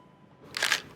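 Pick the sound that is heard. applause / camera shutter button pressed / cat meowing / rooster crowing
camera shutter button pressed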